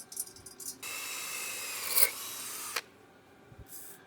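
Steady metallic rasping from hand-tapping threads into an engine block, running for a couple of seconds with a clank in the middle, then quiet.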